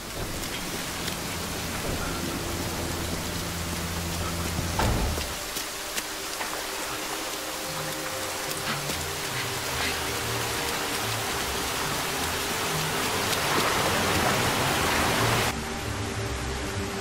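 Steady heavy rain from a downpour sequence in the Korean film Parasite, a dense continuous hiss throughout with a low rumbling score underneath and a brief louder swell near the middle.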